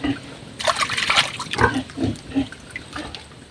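Pigs grunting and feeding on coconut stalk mixed with a little broken rice grain, a series of close grunts in an uneven rhythm over soft wet chewing and sloshing sounds.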